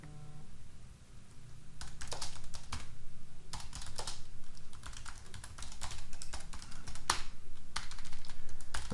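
Rapid typing on a computer keyboard, close and fairly loud, with bursts of clicking keystrokes and brief pauses, no voices present.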